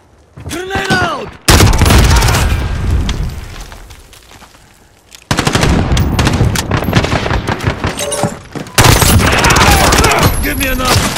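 Loud bursts of gunfire and a grenade explosion from the video game Call of Duty: Modern Warfare, with dense rapid shots in several sustained volleys separated by a brief lull, and a short voice heard early on.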